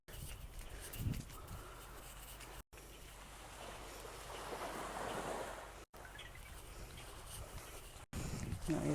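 Ocean waves wash onto a beach in a steady, broad roar with wind gusting over it, swelling in the middle, while a few brief cuts interrupt the continuous surf.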